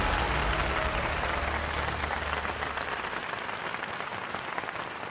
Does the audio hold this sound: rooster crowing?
no